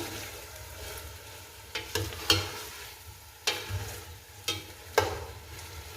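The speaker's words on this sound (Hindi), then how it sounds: "गोश्त अच्छे से फ्राई हो चुका है और इसका मसाला भी बहुत अच्छे से बन चुका है" Beef pieces fry with masala in a pot for biryani, a low continuous sizzle punctuated by several distinct spoon scrapes and knocks as the meat is stirred.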